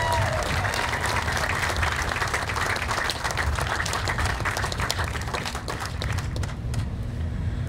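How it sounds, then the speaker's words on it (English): An outdoor crowd gives a steady, sustained round of applause at a 9/11 motorcycle run event in Linden, with a continuous wash of clapping and faint background noise throughout. "I want to give a big round of applause to our support team, our EMS team, and all of our police officers"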